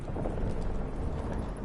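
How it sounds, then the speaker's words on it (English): A Witcher 3 thunderstorm with heavy rain: thick, steady downpour hiss layered with a low rolling rumble of thunder, loud and continuous throughout with no voices. "Didn't bargain for no storm."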